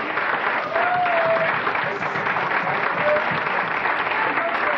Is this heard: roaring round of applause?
yes